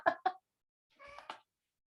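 A cat named Kevin meows faintly: two short, quick mews, a pause, then a longer, wavering plaintive meow, soft and fairly close.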